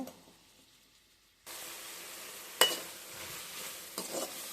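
Tomatoes hit a hot pan for a chickpea kurma: after a near-silent moment a sudden loud, steady sizzle erupts, broken by a sharp clatter of the utensil and later a brief burst of stirring.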